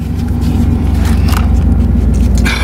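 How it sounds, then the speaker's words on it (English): A Chevrolet Camaro IROC-Z Z28 from the 1980s idles steadily with a deep, even rumble throughout, close and loud, with faint scraping and clicks inside the car. "let's fire it up and get it going. Man, does it run nice."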